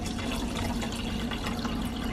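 Water pours steadily into a container while preparing a vegan protein drink with hemp and flax seeds, a continuous close splashing fill with no talking.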